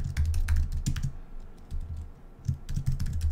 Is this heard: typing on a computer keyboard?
yes